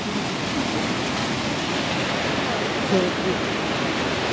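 A heavy waterfall fed by melting snow roars near Gangtok, Sikkim, in a steady, unbroken rush of water with no pauses.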